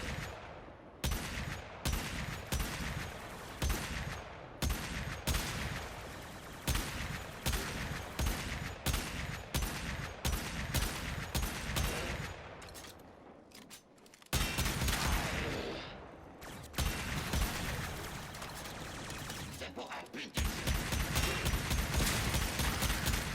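Aklex Prime pistols fire in Warframe, rapid bursts of close, loud gunshots in quick rhythmic volleys, pausing briefly around the middle before resuming with steady shooting.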